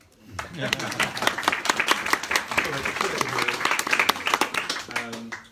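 An audience at an evening talk claps for the hosts, a lively burst of many hands applauding with some distinct close claps, swelling and then fading over a few seconds.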